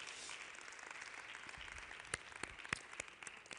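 A church congregation claps hands during a live-streamed sermon, scattered sharp claps building into loose applause over a faint background, no speech.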